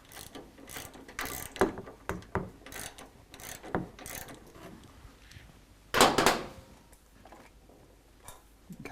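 A ratchet backs out front bolts on a motorcycle during an S&S Cycle performance upgrade, giving scattered bursts of close metallic clicking with a louder rapid run of ratcheting partway through.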